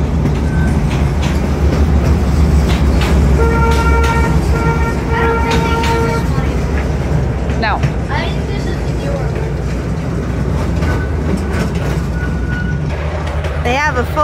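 A train at a depot museum in Alamogordo, New Mexico rumbles steadily and loudly nearby, with brief horn-like tones and squeals over the continuous rolling noise.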